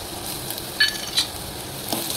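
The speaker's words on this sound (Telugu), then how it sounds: "ఈ వెల్లుల్లి ముద్ద వేసుకుంటున్నానండి" Garlic paste sizzles steadily in a hot pan already holding onion and green chillies, with a few sharp scrapes and clinks as a utensil stirs it around.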